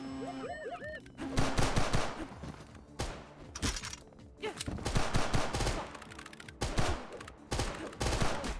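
Rapid, dense bursts of video game gunfire from the Vulture weapon being emptied in a full magazine dump, loud and close, arriving in several sustained volleys with brief gaps and faint electronic chirps at the start, no talking.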